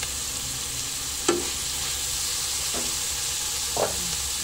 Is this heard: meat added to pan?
yes